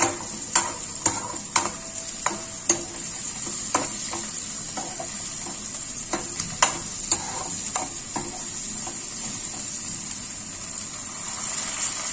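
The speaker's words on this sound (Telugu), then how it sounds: "బాగా ఫ్రై చేసి అప్పుడు నీళ్లు పోద్దామని అనుకుంటున్నా." Vegetables frying in a pan before water is added, an even sizzle under repeated sharp clicks and scrapes of a spoon stirring at a regular pace, close and alone without voices.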